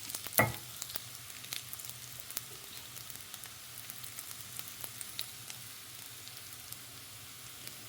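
Pitha frying in a pan as bakor leaves are stirred in, a soft steady sizzle with scattered light crackles and one sharper clatter near the start, no voices.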